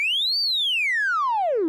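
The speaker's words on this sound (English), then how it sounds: "You get a sort of a bent sine wave." A Koma Elektronik FD201 filter in self-feedback in low-pass mode produces a loud, pure bent sine tone that glides up, then sweeps steadily down to a low pitch, alone and clean.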